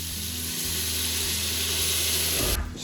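Chopped onions fry in leftover fat from pulled pork, giving a continuous soft sizzle and hiss that rises briefly toward the end, with no talking.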